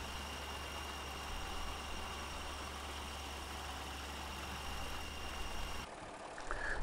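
An NTZ tractor pulling a potato planting rig in Farming Simulator 2015 drones with a steady low engine hum throughout, even and unbroken, with no voices.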